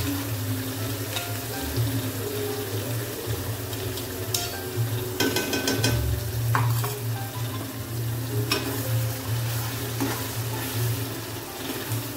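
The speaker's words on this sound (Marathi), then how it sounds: "मसाला व्यवस्थित फ्राय होऊ द्यायचा आहे पूर्णपणे." Fine spice paste frying in hot oil with bay leaf, fenugreek and cinnamon for a red drumstick curry, a steady close sizzle with repeated stirring scrapes and clinks throughout.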